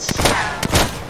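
Gunfire in the video game Minecraft, two or three sharp close bursts a fraction of a second apart over a noisy background.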